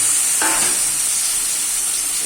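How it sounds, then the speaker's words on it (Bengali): Tomato poured into hot oil with turmeric, cumin and chilli gives a loud, steady sizzle that runs unbroken throughout, with a brief burst of splashing as the tomato hits the pan. "টমেটোটা ঢেলে দিলাম"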